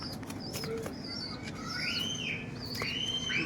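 Long-tailed domestic pigeons kept for sale coo and chirp nearby, with a few brief calls and soft wing flutters over a low background hum.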